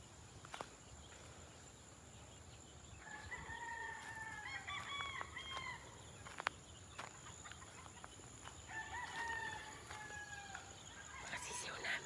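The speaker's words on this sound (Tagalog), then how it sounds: "Pasukin natin yung sisiw." Chickens and week-old chicks on a farm, with a rooster crowing twice in the middle distance over a steady bed of clucking and chick peeping.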